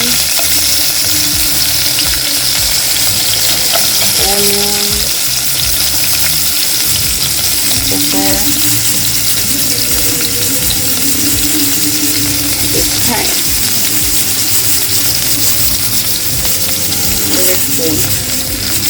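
Ginger and onion fry in hot oil in a pot, giving a loud continuous sizzle with occasional stirring scrapes, close up and steady for the whole stretch with no talk.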